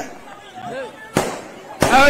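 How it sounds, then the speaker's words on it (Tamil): Firecrackers go off at an outdoor political road-show rally, two sharp loud bangs about half a second apart cutting through someone speaking over a public address system amid crowd noise. "எதுக்குப்பா பட்டாசு வைக்கிறீங்கப்பா"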